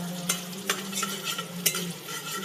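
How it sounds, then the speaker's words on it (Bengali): Chopped garlic stirred in a little butter and oil in a pan, with a steady low sizzle and a few sharp spatula scrapes spaced across a couple of seconds, close and alone. "রসুনের কুচি। 1 মিনিট এইভাবে নাড়িয়ে নিতে হবে।"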